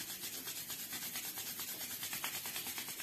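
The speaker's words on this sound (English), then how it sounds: "we're going to rub our hands." Two hands rub briskly together in a quiet room, a faint, close, rhythmic dry swishing repeated steadily back and forth with no talk.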